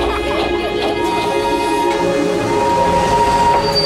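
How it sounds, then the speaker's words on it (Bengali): The Darjeeling toy train chugging up the hills, a steady rumbling run with sustained tonal whine over it, loud and close throughout with no talk. "খেলনা গাড়ির মতো কুঝিকঝিক করে দার্জিলিং পাহাড়ে ওঠে টয় ট্রেন।"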